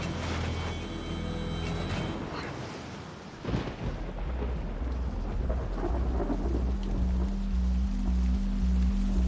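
Heavy rain pours down steadily while a deep rumble of thunder rolls through, loud and close, with no voices.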